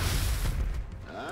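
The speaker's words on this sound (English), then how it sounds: "Let's rapid fire just in case." Rapid-fire gunshots in XCOM: Enemy Within, a quick cluster of heavy booming shots up close that fade into a brief ringing tail.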